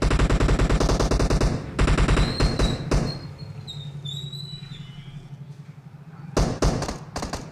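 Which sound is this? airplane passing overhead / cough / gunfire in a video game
gunfire in a video game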